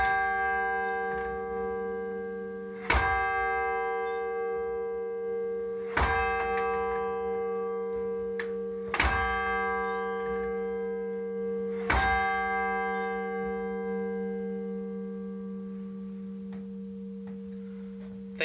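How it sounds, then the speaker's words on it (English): Big Ben style tower chime sounding the hour of five: five loud, evenly spaced bell strikes roughly three seconds apart, each ringing out over a steady sustained tone and decaying slowly with long resonance. "So it's 5 o'clock, so we'll chime for 5."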